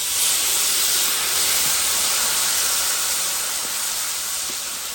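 A cassava flour and water mixture is poured into a hot pan of sautéed fish, giving a loud, steady, broad hiss of steam and sizzling that slowly eases off.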